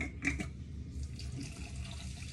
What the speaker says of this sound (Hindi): अंदाज से आपको लेना है पानी